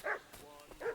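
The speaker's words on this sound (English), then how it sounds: "What's that dog making such a fuss about?" Two quick dog barks in Kingdom Come: Deliverance 2, a medieval village setting, one at the start and one near the end, fairly close and clear with a quiet gap between them.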